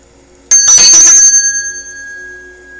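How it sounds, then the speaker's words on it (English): A Tibetan ritual bell rung alongside a vajra gives one loud, bright strike with a short jangling clatter, then a clear high tone that rings on and slowly fades. "It's the bell and the Vajra."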